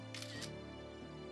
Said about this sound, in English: we need to take a selfie